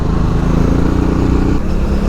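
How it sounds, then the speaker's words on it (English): A Honda Transalp 650 engine chugging along off-road through mud, a loud, steady low thrum with wind buffeting over it. "See how this engine just chucks along?"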